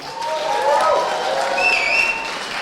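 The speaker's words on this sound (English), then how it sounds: "So shout out to Cognism, round of applause." Applause from a sales conference audience, loud and dense, with a few whistles or cheers rising over the clapping near the end.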